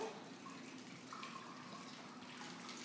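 A pre-made cocktail poured over ice in a glass, heard as a soft, continuous trickle of liquid that stays faint and even from start to finish.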